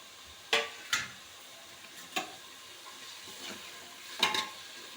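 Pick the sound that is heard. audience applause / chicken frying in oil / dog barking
chicken frying in oil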